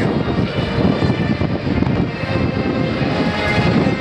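An Airbus A400M flying overhead with its four TP400 turboprop engines, a loud, steady, broadband roar that holds unbroken from start to finish without any voices.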